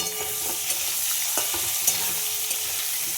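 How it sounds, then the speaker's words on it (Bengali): Potatoes and finely chopped onion fry together in a pan, giving a steady close sizzle with scattered crackles and a few stirring clicks throughout. "এই আলুর সঙ্গে একটা পেঁয়াজ কুচো করে কেটে নিয়েছি। একসাথে ভেজে নিই।"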